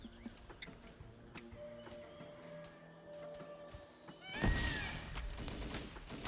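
Gunfire in a video game set in an Indochina operation: scattered faint shots and clicks, then a louder, denser volley near the end, all fairly distant and low in level, with no voices.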